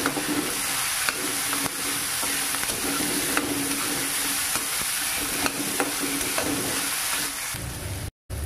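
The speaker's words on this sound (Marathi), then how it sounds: "भाज्यांसाठी ना थोडेसे मीठ टाकायचे, चांगलं परतून घ्यायचे" Salted vegetables sautéing in a pan for paneer fried rice, a close, steady sizzle broken by regular sharp spatula strokes against the pan, with no voices.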